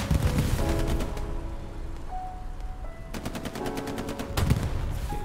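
Rapid automatic gunfire from the WWII shooter game Hell Let Loose, sustained bursts of machine-gun and rifle fire over a dense battle din, with a louder close volley near the end.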